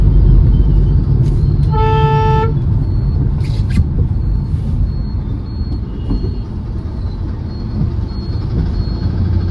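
Dense, steady peak-hour city traffic rumbles throughout, engines droning close by, with a single horn blast sounding briefly near the start.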